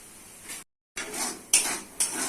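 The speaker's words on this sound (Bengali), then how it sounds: "মশলা ভালো করে কষে নিতে হবে" Ground turmeric, chili, cumin, coriander and salt fry in a pan, with a soft sizzle and the scrape and clink of a spoon stirring against the metal. A brief silent gap interrupts the sound.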